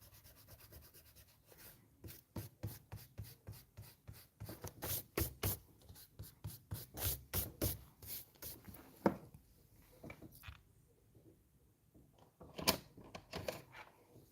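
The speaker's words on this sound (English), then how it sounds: "I plan to use color pencils." Colored pencils scratch and rub across paper while drawing a fantasy bird, a close, steady run of short strokes in quick rhythmic bursts, pausing briefly before resuming.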